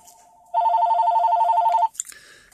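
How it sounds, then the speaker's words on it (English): A phone rings with an incoming call: one sustained, rapidly warbling electronic trill of about a second and a half, loud and alone, followed by a faint brief clatter. "And I'm getting a phone call."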